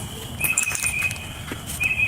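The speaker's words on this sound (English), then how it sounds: "listen to all these birds" Birds in a forest chirp in repeated thin, high tweets over a soft background hiss, with short calls scattered through a brief stretch.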